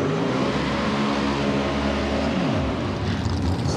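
A drag racing car engine roars loud and close at Texas Motorplex, a dense continuous blast with a falling pitch sweep near the end as it passes.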